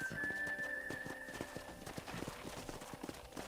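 Horse hooves in Red Dead Redemption clatter in a quick, galloping clip-clop rhythm, moderately close, with a brief high whistle-like tone at the start and some background ambience.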